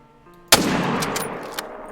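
A single sharp rifle shot at a mountain goat in a hunting game, a sudden loud crack after near silence, followed by a decaying echoing tail and a few faint clicks.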